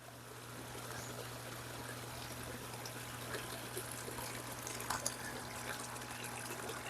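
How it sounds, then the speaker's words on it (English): Water spills steadily from two pump-fed waterfalls in a garden bog filtration pond, giving a continuous trickling rush with a low pump hum beneath and no talking. "the bigger pump feeds these two waterfalls"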